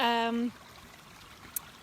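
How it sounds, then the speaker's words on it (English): Water flows steadily along an acequia irrigation channel with a soft, continuous rushing trickle, close by. A brief tonal sound at the start then fades, and a single faint tick follows. "this is actually the main acequia that we're taking the water from"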